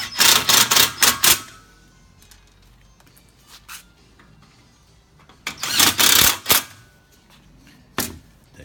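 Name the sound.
screws being screwed into a plenum adapter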